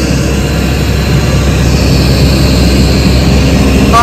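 Steady, loud engine drone fills a small airplane's cabin during a flight on an Everest Base Camp trek in Nepal. The roar is continuous and close for the whole stretch, with no talk over it.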